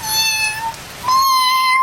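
An orange cat meows twice, close and loud, a drawn-out cry followed by a second, brighter meow.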